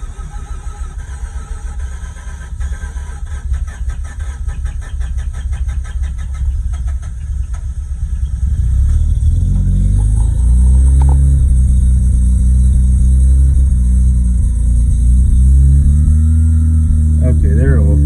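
A Mazda Renesis 13B rotary engine cranks and catches, settling into a loud, steady idle with a thick low rumble and light revving, close to the microphone; no speech is heard.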